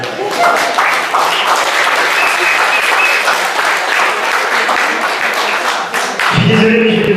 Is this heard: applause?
yes